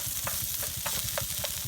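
Pork and onion sizzle steadily in a hot pan for Vietnamese banh xeo pancakes. A spatula scrapes and stirs at a regular rhythm above the constant crackle, close up and with no talking.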